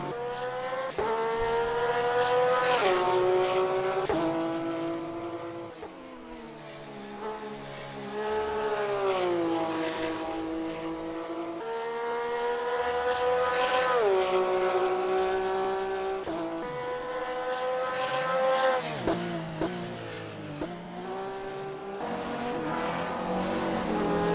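A Porsche GT3 race car in a sim racing game laps Spa-Francorchamps with a loud, constant engine wail. The pitch climbs and then drops sharply at each gear change and braking point, over several cycles. There is no talk.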